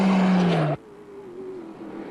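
An off-road race vehicle, a class 10 or class 1 entry at the 2008 Mint 400 desert race, roars loudly up close, then cuts off abruptly to a quieter, more distant engine hum that lingers to the end.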